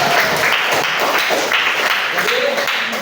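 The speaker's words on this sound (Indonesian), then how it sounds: "Tepuk tangan untuk kita semua." A classroom breaks into steady applause at the close of a lesson on job application letters and CVs, a dense, loud, even patter of many hands clapping for a few seconds.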